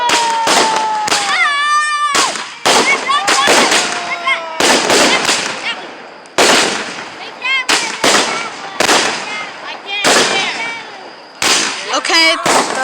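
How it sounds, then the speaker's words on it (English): Fireworks going off outdoors in a backyard show, sharp bangs and crackles repeating every second or two, with whistling screams and a person speaking loudly in between. "that's firework number 2"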